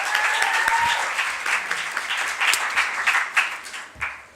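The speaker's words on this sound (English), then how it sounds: "Can we have a round of applause for Stag Radio and all the media" Audience applause at a student question time event, a dense steady wash of many hands clapping close by for several seconds, with no voices over it.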